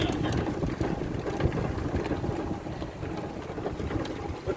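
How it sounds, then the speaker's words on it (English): A vehicle rolls along a gravel road in the Mount Shasta area, giving a steady broadband rumble and crunching texture with wind buffeting the microphone, fairly quiet and continuous throughout. "Whoa, it's a gravelly road."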